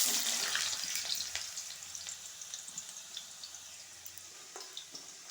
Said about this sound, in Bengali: এবার এগুলো ভেজে তুলে রাখবো।